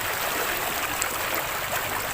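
The Daraitan river flowing steadily, a continuous broadband rush of moving water with soft gurgles, close and even, with no voices.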